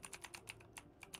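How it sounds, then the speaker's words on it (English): Rapid typing on a computer keyboard during a Baldur's Gate 3 session, about a dozen quick, evenly spaced clicks, faint and alone. "Who's the rapid clicking?"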